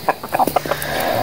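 A rooster clucks in short, quick bursts, several close, loud clucks in a rapid stutter with outdoor background noise.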